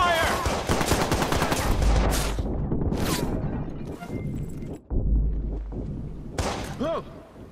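Gunfire in the video game Watch Dogs, with bursts of shots and impacts under shouting voices amid a chaotic firefight, loud and dense throughout with a few sharp spikes.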